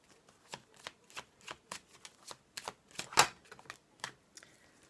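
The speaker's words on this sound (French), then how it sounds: "je vais sortir 5 petites cartes" Oracle cards are shuffled and drawn by hand in a quiet room, a series of crisp, separate papery flicks and snaps spaced irregularly, with one sharper slap near the middle.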